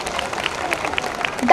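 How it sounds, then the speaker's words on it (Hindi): A school annual function audience claps after a dance performance, with scattered, uneven handclaps rising toward the end, under a light murmur of crowd voices. "आप सबको भी पसंद आया तो जोरदार तालियों से"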